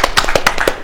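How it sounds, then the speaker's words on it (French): Short burst of audience applause on a live talk show, dense sharp hand claps over about a second, fairly loud with no speech over it. "On peut applaudir pour ça."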